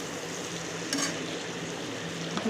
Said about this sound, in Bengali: এখন সবজিগুলো সম্পূর্ণ দিয়ে দিচ্ছি ভালো মতন নাড়াচাড়া করে নিচ্ছি